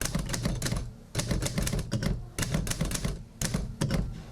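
Rapid bursts of typewriter keystrokes clatter close by, pausing briefly between runs of typing, with no voices.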